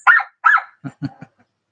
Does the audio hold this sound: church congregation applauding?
no